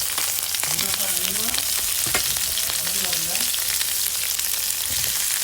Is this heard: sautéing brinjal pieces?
yes